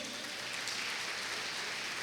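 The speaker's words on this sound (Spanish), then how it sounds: "Bríndale un aplauso a Dios." A church congregation applauds during a Spanish-language sermon, a dense, even wash of clapping sustained throughout without a break.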